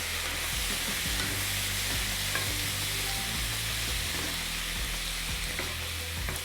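Sisig of chopped pork frying in a hot pan with chilies, onion and calamansi, a loud steady sizzle with stirring scrapes throughout.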